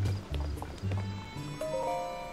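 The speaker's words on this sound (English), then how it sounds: "Seen that golden horse." A golden horse in Zelda: Tears of the Kingdom, with soft rhythmic hoof clip-clops and snorting under low ambient game music, the steps uneven and fairly quiet.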